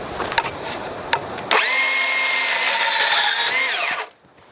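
A Makita 18V XBP02 cordless portable band saw cuts through 1-inch Schedule 40 PVC pipe. After a few faint clicks the saw whines loudly and steadily for about two and a half seconds, then winds down as the cut finishes.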